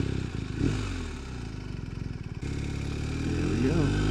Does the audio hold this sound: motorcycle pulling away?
yes